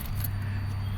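Brief, faint metallic jingle of keys as a car key goes into the ignition of a 2005 Toyota Passo with a no-start fault, over a low steady hum.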